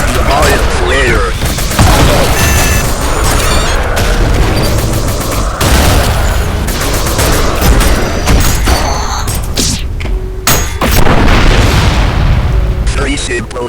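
Dense, loud gunfire and booming explosions from the video game ULTRAKILL pile up continuously, with sharp blasts and roaring bursts layered over one another and a voice talking underneath.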